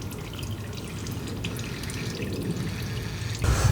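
Engine oil draining from a fully built Mitsubishi Evo 9 during an oil change, a steady close trickling and dripping stream that grows slightly louder near the end.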